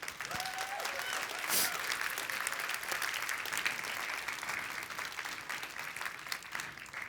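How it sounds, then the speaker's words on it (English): An audience at a youth panel event on Arctic cities applauds in sustained, even clapping that fills the room and holds steady for several seconds, moderately loud with a faint crowd murmur beneath. "Give them a round of applause"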